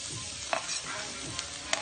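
Garlic sizzles in hot oil in a pan at the start of cooking pork sisig, a close, steady crackle broken by a few soft scraping stirs.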